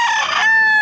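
A rooster crows once at a livestock auction market in Padre Garcia, Batangas, a loud, close, strained call that breaks into a sustained high tone with no talk over it.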